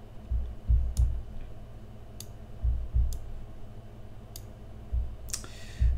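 Computer mouse clicks on a Puppy Linux desktop: several sharp, faint, isolated clicks spaced about a second apart over low rumbling background noise, with no speech.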